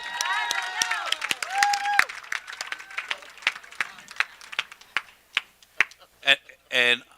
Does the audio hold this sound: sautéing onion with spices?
no